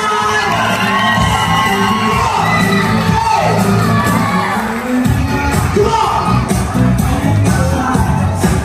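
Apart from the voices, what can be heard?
crowd applauding and cheering at an 18th birthday party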